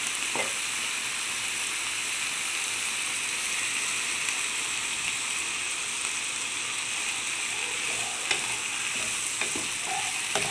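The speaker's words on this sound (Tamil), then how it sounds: "கொஞ்சம் வதங்கட்டுங்க. லைட்டாக கொஞ்சம் உப்பு போட்டுக்கலாம்." A steady, close sizzle of onions frying in a hot pan, with an occasional faint clink or stir and no talking.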